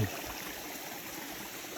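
Water from a mountain stream rushes steadily nearby in a continuous broadband wash with no break and no voices.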